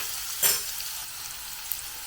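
Chopped onion frying in hot oil for a Kerala egg puttu masala, a soft continuous sizzle close by with one brief louder burst as it is stirred, no talk.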